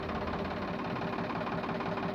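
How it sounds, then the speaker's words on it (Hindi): A Sonalika 735 DI tractor labours under a heavily loaded soil trolley, its diesel engine a loud, continuous low throb with a steady knocking beat and no break or pause. "ट्रैक्टर बड़ा लोड ले रहा है क्योंकि ट्रॉली मिट्टी में ज़्यादा है"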